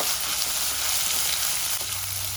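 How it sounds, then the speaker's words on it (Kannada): Dried tomatoes sizzle steadily in hot oil in a pan, a continuous bright frying hiss with a low hum rising near the end, no voices. "ಈಗ ಎಣ್ಣೆಲಿ ಟೊಮೊಟೊನ ಚೆನ್ನಾಗಿ ಉಟ್ಕೊಳ್ಬೇಕು"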